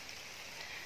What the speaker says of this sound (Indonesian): Hujan deras lumayan.